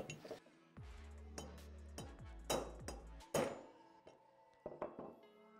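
Steel chisel struck by a hammer to start a steering stem bearing off a KTM motorcycle stem: a series of sharp metallic hits at irregular intervals, each ringing briefly, close and fairly loud with no talking.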